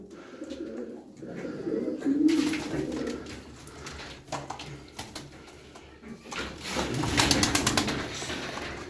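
Pigeons cooing inside a coop, low soft rolling calls in two swelling bouts over a steady murmur of birds, with brief wing rustles between.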